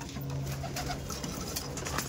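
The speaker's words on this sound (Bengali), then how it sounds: "তাও পায়রাগুলো দেখুন" Madrasi pigeons coo inside a loft, giving soft, low, rolling coos against a constant background hum.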